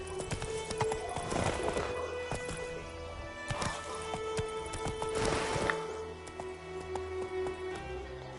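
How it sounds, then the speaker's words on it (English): Horse hooves gallop in a steady, fast clip-clop rhythm through The Witcher 3 next-gen update, loud and close, with a brief whinny and a dense bed of game ambience and music underneath. "Giddy up. Come on, Roach"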